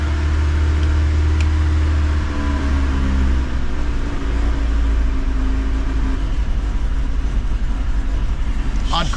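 A Honda Civic engine runs at a raised idle, a steady low rumble with a slight shift in pitch partway through, close and fairly loud.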